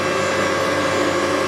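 CNC machine milling turntable suspension parts from round bar stock, a steady loud whirring and grinding hum with no pauses or changes.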